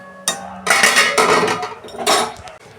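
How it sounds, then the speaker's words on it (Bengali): A metal lid comes off a cooking pot with a series of close, clattering clinks and scrapes against the rim, with a brief pause between the knocks. "দেখুন বন্ধুরা, ঢাকনা খুলছি।"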